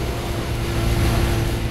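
Steady engine drone of a Toyota car racing in the video game Need for Speed World, a constant low hum with a faint tonal whine held throughout, loud and unbroken with no talk.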